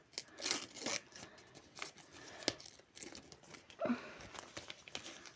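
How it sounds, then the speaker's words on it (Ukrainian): Crinkly tearing and rustling of an adhesive plastic packet being peeled off its backing, in short irregular bursts with small taps, close and fairly quiet. "Зараз будемо відклеювати сам пакетик."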